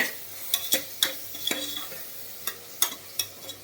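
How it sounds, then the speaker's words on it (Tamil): Tomatoes sauté in a pan for chicken white kurma, a soft steady sizzle under repeated close scraping stirs of a spoon against the pan, about a dozen strokes at an irregular rhythm, with no talk. "தக்காளி நல்லா வதங்கணும்"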